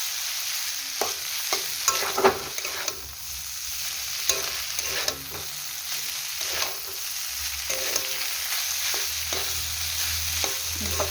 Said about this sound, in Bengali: ম্যাগিটা দিয়ে দিলাম।